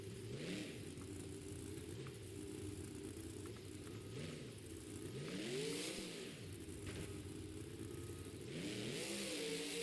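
Monster truck engines at a Monster Jam stadium show rev hard and rumble continuously, with rising and falling throttle sweeps as a truck attempts a wheelie, loud and sustained over distant crowd noise.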